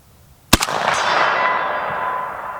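A single AK rifle shot fired from the prone position cracks sharply and loudly, with a second quick report just after, followed by a long ringing echo that slowly fades.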